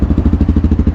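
A TEKKEN 250 EFI motorcycle engine runs close by, throbbing in a loud, even low pulse with rapid regular firing beats and no other sound over it.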